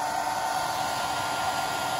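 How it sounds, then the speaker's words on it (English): A hair dryer on medium setting, powered through an inverter from a VW e-up battery, blows steadily with a constant whooshing hum, close by and unchanging, with no other sounds. "let me put the hair dryer in medium"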